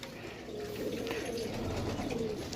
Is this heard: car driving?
no